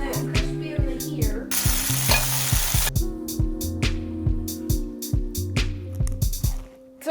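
Food frying hard under a heavy four-pound grill press, loud continuous crackling sizzle with a burst of intense spitting in the middle, steady and close throughout.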